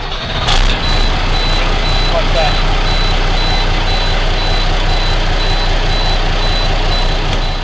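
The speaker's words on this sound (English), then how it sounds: "So if everything's right, the bus will start." A school bus engine cranks and catches with a brief burst, then settles into a loud, steady idle rumble under a repeating high-pitched beep, with a short spoken word.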